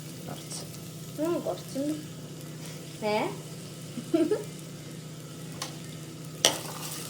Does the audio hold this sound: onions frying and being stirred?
yes